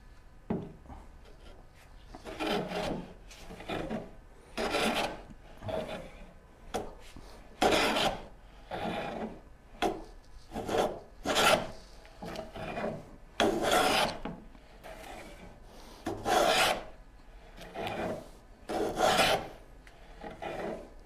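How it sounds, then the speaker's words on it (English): Hand plane working against the grain while smoothing saw marks from wood for a Shaker Enfield cabinet: regular rasping strokes about a second apart, each a scratchy hiss of shavings, close and fairly quiet, with no talking. "I realize I'm planing against the grain"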